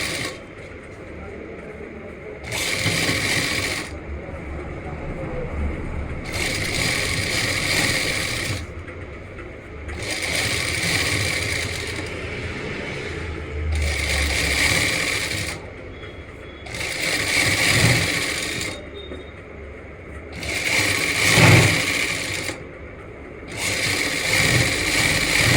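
A sewing machine stitches a salwar in repeated bursts of a few seconds each, with short pauses between runs. The steady mechanical whir is fairly close.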